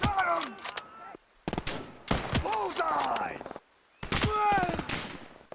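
Sniper and rifle fire from the WWII shooter Gates of Hell: Ostfront in a liberation campaign with paratroopers, with sharp loud cracks in several bursts amid battle noise and voices, separated by brief quiet gaps.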